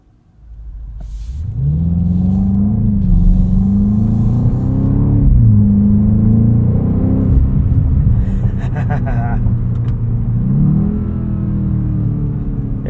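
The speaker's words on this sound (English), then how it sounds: "A few burbles when you let off the throttle." A 2024 BMW X5 M's engine revs and pulls hard while driving at night, a loud steady drone with rising pitch sweeps, then exhaust burbles and crackles as the throttle is released.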